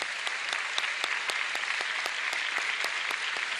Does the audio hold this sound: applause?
yes